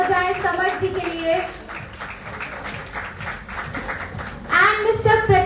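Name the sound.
audience applause at a film launch event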